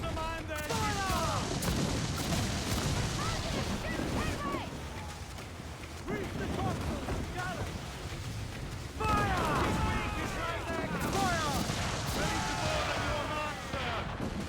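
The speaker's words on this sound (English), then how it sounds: "Mortars, Edwards!" Mortar fire in the pirate game Assassin's Creed IV Black Flag, a steady rumble of booms and blasts under continuous voices, swelling louder in the later half.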